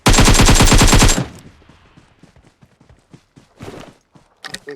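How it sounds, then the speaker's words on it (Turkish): Rapid automatic gunfire in PUBG Mobile rattles loudly for about a second, then stops abruptly, leaving soft in-game footsteps and faint scattered movement sounds. "Biri vuruyor."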